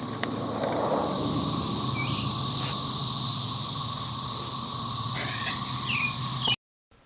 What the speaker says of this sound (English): did you guys hear those cicadas? Oh, wow. When I was playing this back, I realized how extremely loud they truly are.